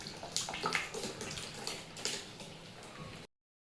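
Water from cooked biryani rice is drained off, a steady splashing pour lasting about three seconds before stopping abruptly.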